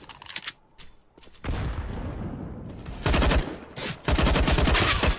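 Gunfire crackles in a CS:GO match, with sharp bursts of shots, one firing in a rapid loud fusillade, separated by brief quieter stretches of game sound.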